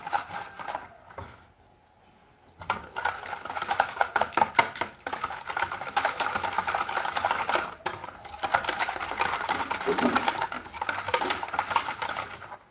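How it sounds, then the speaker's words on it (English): Wet ingredients for a yogurt cake being whisked in a bowl, a fast rapid ticking and clattering of the whisk that runs nearly continuously after a brief pause near the start. "let's proceed to whisk all these ingredients together"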